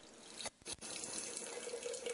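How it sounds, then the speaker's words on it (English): Water poured from a tap into a container of soaked almonds for almond milk, a steady close rushing stream with a brief break, no talk. "I'm going to add a quart of water to that and just show you how easy it is to make almond milk"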